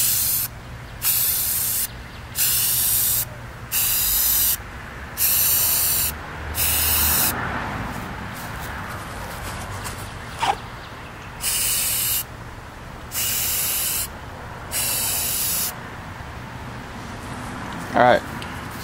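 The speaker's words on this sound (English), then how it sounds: "make sure you shake it up in between sprays." Short bursts of aerosol spray paint hiss coating an AK-74 rifle part, about ten close, evenly spaced sprays of a second or so each, with a rattling shake and quiet gaps between them.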